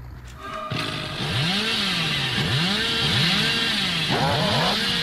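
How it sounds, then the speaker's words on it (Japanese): Chainsaw revving in the horror game Dead by Daylight, a loud close snarl that rises and falls in repeated surges, with a brief sharp start before it kicks in. "チェーンソーふかしすぎや。"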